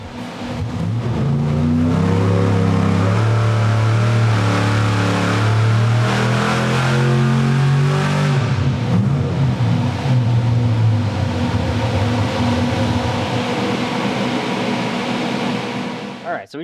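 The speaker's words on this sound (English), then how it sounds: "we just got done with our preliminary pull on this thing, not revving it up super far" A jet boat engine revs on a tune-up pull, a loud sustained drone with rising and falling pitch held for most of the span before easing off at the end.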